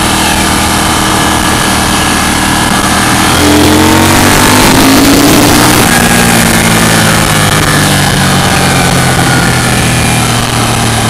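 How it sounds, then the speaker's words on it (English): A KTM 790 V-twin motorcycle accelerating hard on a roll-on, its engine note climbing in pitch as the revs rise, loud and close over steady wind and road noise for about eleven seconds with no speech. "Pretty impressive roll on for a under 800cc bike. The torque is very twinish, obviously, V-twinish"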